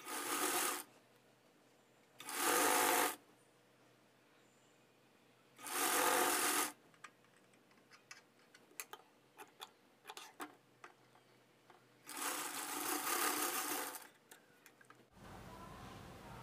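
A sewing machine stitches the lining of a size 36 boat neck blouse in four loud, close bursts of rapid whirring, separated by quiet gaps filled with faint ticks and handling noise.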